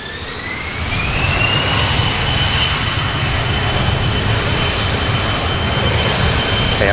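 A KLM jet airliner roars loudly on the runway at Manchester Airport, the engine noise rising in the first second, then holding as a steady, powerful rumble with a thin whine sliding across it.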